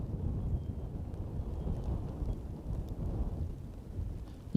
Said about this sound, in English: Because it's not easy with that wind.